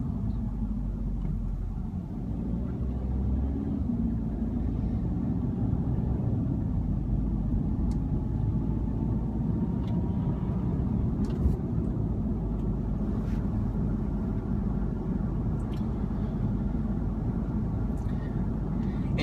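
A 2015 Audi S3 is driving along at normal speed, with its fast gear changes heard inside the cabin as a steady low engine and road rumble that stays even throughout, with no clear shifts standing out.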